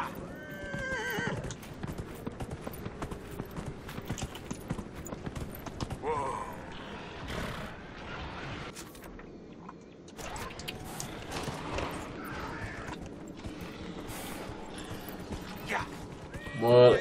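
In the video game Dragon Age Inquisition, hooves clip-clop steadily at a moderate distance while a horse whinnies briefly, with scattered mechanical clicks and a louder burst at the end.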